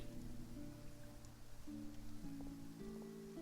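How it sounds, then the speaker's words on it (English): Rain falls in a Genshin Impact Fontaine cutscene, a faint, steady hiss of drops that sits beneath soft, sustained musical tones. "Raining in a cutscene? Looks like rain."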